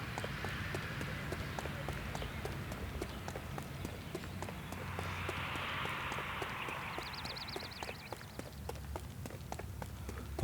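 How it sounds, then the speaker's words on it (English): Horse hooves clip-clop in a quick, even rhythm at close range, over soft ambient wind and a brief warbling tone, in L.A. Noire. "A horse."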